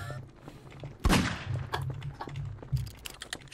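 A sharp burst of gunfire in the Garry's Mod Murder game, one loud shot followed by a few quieter cracks and clicks over a low game hum, with faint voices in the background.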